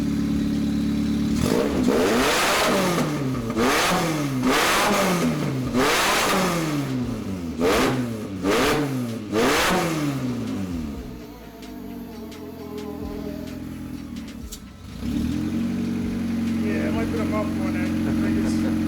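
Honda CR-V engine revving hard in repeated rising and falling bursts, close and loud, followed by a rougher idle and another rev near the end.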